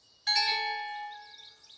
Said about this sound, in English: Ring your bell, Lindy.